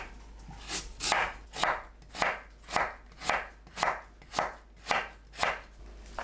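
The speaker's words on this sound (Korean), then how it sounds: "너무 두껍지 않게 채 썰어주세요." A knife julienning radish on a cutting board gives about a dozen even, rhythmic chopping thuds, crisp and close, with no voices.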